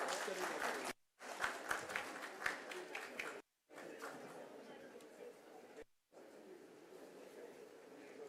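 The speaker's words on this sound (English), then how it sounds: "A huge round of applause," Audience applause at a summit ceremony, a dense patter of clapping cut by several brief silent gaps, with voices mixed in.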